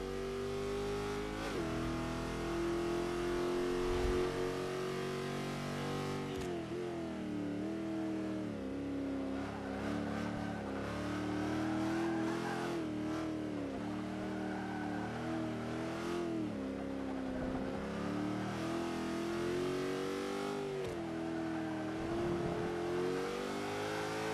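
A Chevy Nova race car tuned as the ECT C500 roars at Indianapolis in the video game Forza 5, its mid-pitched engine revving up and down continuously through gear changes and corners, loud and close with no talk.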